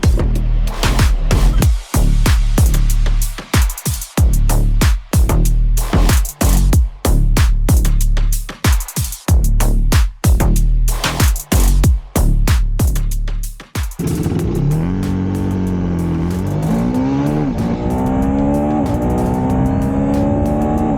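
A KTM Adv motorcycle in an acceleration test revs hard through the gears, with a rapid series of clipped shifts, then eases off into a falling, wavering engine note.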